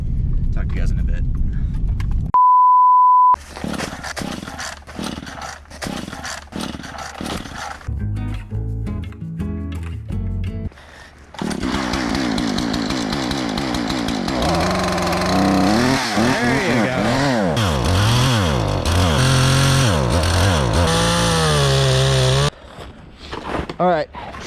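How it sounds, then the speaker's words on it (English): A chainsaw roars and revs repeatedly in long bursts, its pitch rising and falling as it cuts through a fallen tree, with brief pauses and some talking. "Get the chainsaw, we got a tree down."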